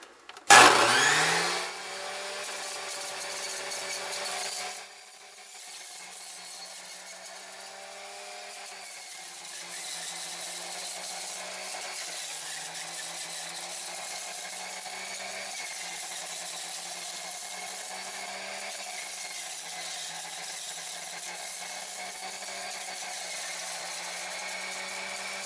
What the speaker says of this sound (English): This is a dang good juicer. It's going to be a little bit loud right now when I turn it on